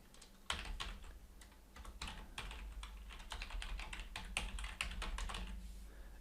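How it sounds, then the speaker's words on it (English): Fast typing on a computer keyboard as a web link is entered, a dense close stream of clicks with a few louder taps, steady throughout over a low hum. "So if I wanted to type out a link completely,"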